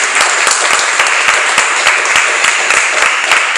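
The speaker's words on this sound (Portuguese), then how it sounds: "Você pode aplaudir a Ele." A congregation applauds during an evening church service, a dense, steady burst of many hands clapping together, loud and sustained from start to finish.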